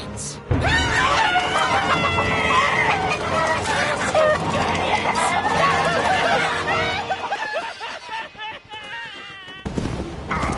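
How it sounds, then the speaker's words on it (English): Chickens cluck in the LEGO Marvel Super Heroes 2 video game, with busy, overlapping squawks and game sounds layered together for several seconds, then a brief drop in level before the noise picks up again. "Chickens."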